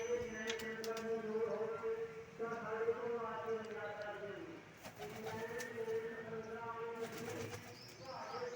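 Pigeons and their young coo in a loft, a layered, throbbing murmur of overlapping calls that rises and falls, with a few brief clattering knocks.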